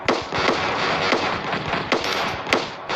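Rapid game gunfire while shooting monsters in the Roblox game Among Us Zombies, a steady string of sharp, close shots with a few louder cracks standing out over three seconds.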